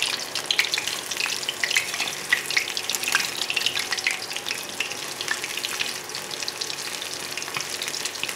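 Small fish pakoras crackle and sputter in hot oil after being flipped, a dense, continuous sizzle with sharp popping bursts, close up and with no talking.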